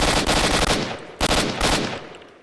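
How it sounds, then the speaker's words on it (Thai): Rapid automatic gunfire from S.T.A.L.K.E.R. Shadow of Chornobyl Enhanced Edition, two loud sustained bursts separated by a brief pause, then a fading tail. "ยิงอัดหัวนัดเดียวตายก็จริงแต่ว่า เนี่ยกว่าจะยิงโดนกูหมดไปกี่นัด"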